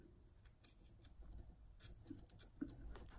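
Scissors snip through paracord being wrapped on an axe handle, a few quiet, sharp cuts close by in a faint, otherwise hushed room.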